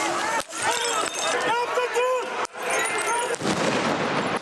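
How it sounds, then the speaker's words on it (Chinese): Explosions during street riots in Athens: several sharp bangs break through a constant, noisy crowd din with shouting, one of them heavy and booming near the end. "希腊雅典街头爆炸声不断"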